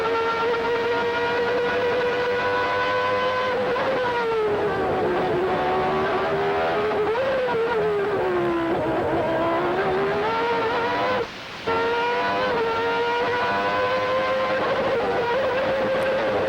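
Ayrton Senna's race car screams around Suzuka circuit in onboard sound, a loud, sustained engine wail that rises and dips with gear changes and corners, with a brief lift near the end before pulling hard again.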